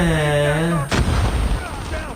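A sudden loud grenade blast in Call of Duty Mobile cuts through a sustained musical tone, followed by a rumbling, crackling tail.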